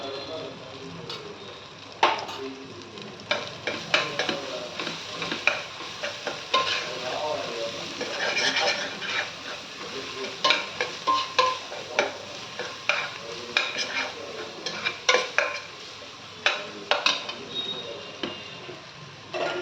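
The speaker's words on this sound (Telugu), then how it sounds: "ఇప్పుడు ఇది వేగిపోయింది కదండి, ఉల్లిపాయ పచ్చిమిరకాయ, పుదీనా, అల్లం వెల్లుల్లి పేస్ట్ ఇదంతా వేగిపోయింది బాగా" Onion, green chilli, mint and ginger garlic paste fry in oil for a chicken curry, with a soft continuous sizzle and repeated sharp clacks and scrapes of a spoon stirring against the pan.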